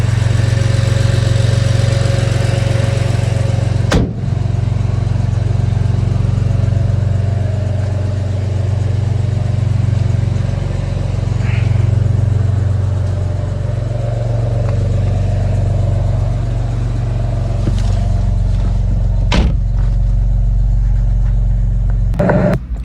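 A BMW M4 with the S55 engine running steadily while being driven, a loud, continuous low engine drone with mild rises and falls in pitch and a few sharp bumps or knocks, no voices.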